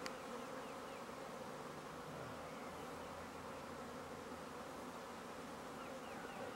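A swarm of honey bees clinging to a structure, with a dense, steady, close buzzing hum throughout and no voices.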